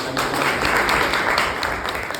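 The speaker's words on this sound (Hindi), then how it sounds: "एक बार जोरदार तालियों से" Loud, dense applause from a crowd at a public ceremony in India held during a service fortnight, sustained and close, with faint voices underneath.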